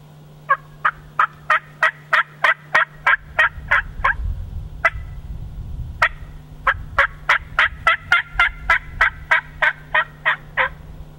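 Box-style turkey call worked by hand to imitate a hen: two runs of sharp, evenly spaced yelps, about a dozen each, close and clear over a low background hum and a brief rumble between them.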